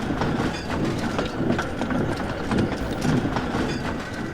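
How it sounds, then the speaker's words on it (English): Rhythmic clickety-clack of railway coaches rolling into a station platform, even repeating wheel beats over a steady rumble, moderately close and with no talk. "Donald brought the coaches for the first train to the platform."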